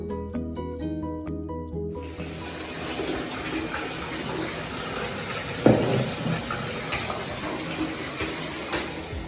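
Water from a tap runs steadily into a bathtub as it fills, a soft continuous splashing hiss that follows a short burst of music at the start, with a brief louder splash partway through.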